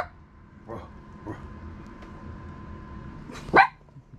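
A dog barks outdoors several times in a morning yard, short sharp yips spaced apart with one louder, nearer bark near the end over quiet background.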